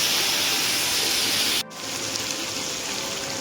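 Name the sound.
frying spices in ghee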